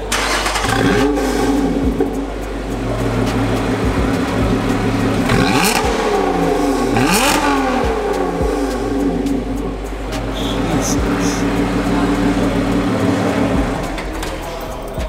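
A 3.5 litre supercharged supercar engine fires up and revs in several sharp rising bursts over a steady loud idle, close by, with brief voices in the background.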